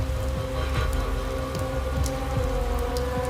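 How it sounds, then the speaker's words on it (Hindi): Steady rain pours down continuously, a dense even patter with a low rumbling background and no voices. "बाहर अभी भी बारिश हो रही थी।"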